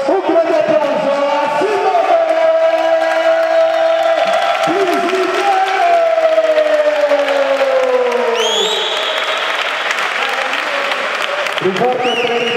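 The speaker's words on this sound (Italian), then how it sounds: "un grande applauso" An audience applauds and cheers at an amateur boxing match as the challenger is introduced, a dense steady roar of clapping under a loud announcer's voice with whoops and shouts.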